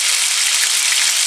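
Small pieces of meat for a Spanish-style solomillo with roquefort sizzle in a hot pan, a loud, steady, close crackling hiss with fine popping throughout.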